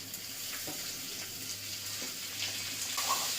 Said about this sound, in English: fry it for some time, like 2 to 3 minutes without any masalas, so that the snail get proper oil